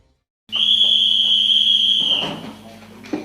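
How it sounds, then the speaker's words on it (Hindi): A loud, steady, shrill whistle blast announces bedtime at a commando school, held for about two seconds before fading into faint rustling and a soft knock. "ठीक 10 बजे की सीटी ऐलान करती है सोने के वक्त का।"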